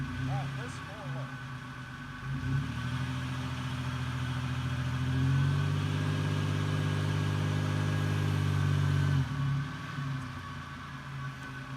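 A Toyota Tacoma pickup crawls along in low-range transfer case gears. Its engine holds a steady low hum that swells slightly through the middle and then eases back, close and continuous.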